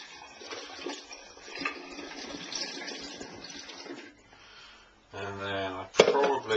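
Herbal tonic tea poured from a vessel into a bottle or thermos flask, a trickling liquid stream that ends in a brief louder gush and fill near the close.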